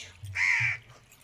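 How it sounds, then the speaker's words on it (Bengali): A crow in a home vegetable garden gives a single harsh caw, close and clear over quiet background hum. "কাকটা ডাকছে"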